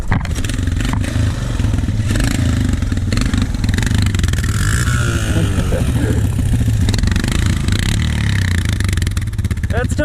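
A Honda TRX ATV engine, one with a pull starter, runs steadily close by, loud and rough with some clattering mechanical noise mixed in throughout.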